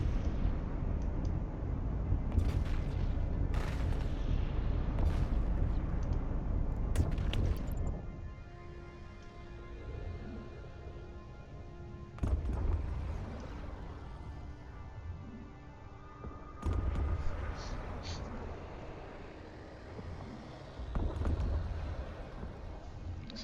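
Ship weapons fire and heavy explosions during a level 4 mission in Eve Online, with deep rumbling blasts in loud bursts that are broken by quieter, humming stretches.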